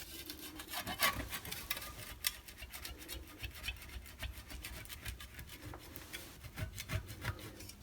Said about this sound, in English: Alright, the scraping portion of the project is complete.